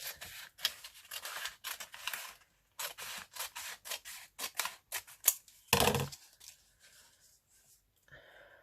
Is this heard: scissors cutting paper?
yes